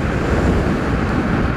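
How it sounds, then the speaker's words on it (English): Loud, constant wind roars across the microphone in a broadband rush with no pauses. "I really hope you guys can hear me because it is windy."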